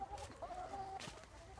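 Chickens cluck close by, a few short throaty calls and one drawn-out squawk, over a faint background hum.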